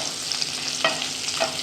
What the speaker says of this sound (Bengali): লাল করে ভাজবো আলুগুলো।